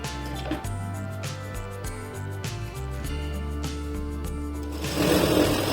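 A sewing machine runs steadily while stitching tucks into a blouse, a continuous mechanical hum that continues alone without talk for several seconds and grows slightly louder near the end.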